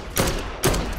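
Two heavy sniper rifle shots in the zombie game Dead Island 2, each a loud close crack with a rolling tail, about half a second apart.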